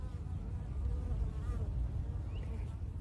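Bees buzz in a dense, steady drone throughout, with individual insects whining past now and then, fairly close.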